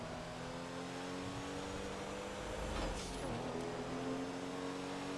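A car engine in the video game GTA 5 hums and revs steadily, with a smooth synthetic quality, rising briefly midway; no voices.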